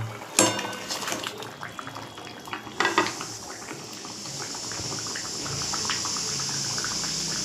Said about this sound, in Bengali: ঝোল তো ফুটছে দারুণ।